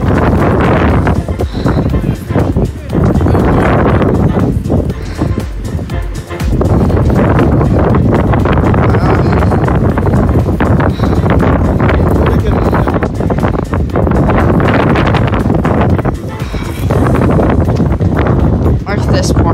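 Strong wind buffets the microphone almost continuously on the 4,100 ft summit of Cannon Mountain, roaring loud and close with gusty rises and dips, while a person talks over it.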